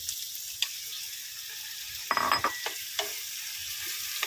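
Chicken pieces hitting a hot pan and frying: a steady hiss of sizzling oil throughout, with a louder burst of crackle and scraping as the meat goes in near the middle, then settling back to a constant sizzle.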